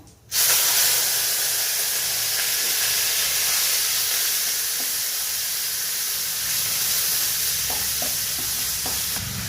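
Washed rice tipped into hot spiced oil tempering for a vegetarian Bengali muri ghonto bursts into a loud sizzle, then holds a steady close hiss, with a few light clinks near the end.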